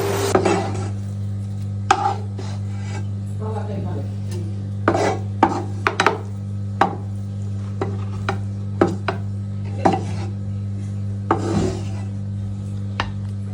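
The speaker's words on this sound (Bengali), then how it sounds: "এরপরে সুন্দরভাবে ছোট্ট একটি কোদালের সাহায্যে সুন্দরভাবে পালিশ করে ফেললাম" A small spatula smoothing date-jaggery sandesh in a pan, heard as scattered scraping and tapping strokes at an uneven pace, close by over a steady low hum.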